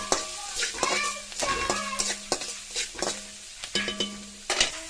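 Onions sauté with salt in a pan, giving a continuous close sizzle punctuated by repeated scraping and clanking stirs of a spatula against the metal.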